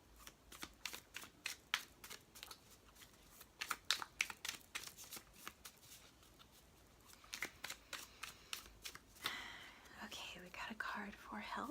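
Tarot and oracle cards being shuffled up close, quick repeated riffling and flicking bursts with brief pauses, soft crisp card snaps and a rustle near the end, quiet and intimate with faint whispering.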